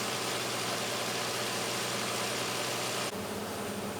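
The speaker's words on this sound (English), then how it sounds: "Here are the two main generators, a Detroit Diesel 671 and a John Deere 471." Two tugboat diesel generators, a Detroit Diesel 671 and a John Deere 471, run in an engine room with a steady, loud mechanical drone and vibration throughout, with a slight shift in tone near the end.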